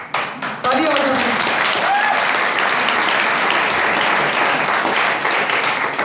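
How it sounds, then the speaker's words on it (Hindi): A large audience at a stage program bursts into loud, sustained applause that fills the space, with cheers and voices mixed in underneath. "तालियां बजाइए।"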